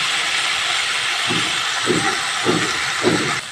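A small amount of water hitting a hot pan of spiced potato, eggplant and spring onion, giving a sustained close hiss of steam with a few short stirring bursts near the end.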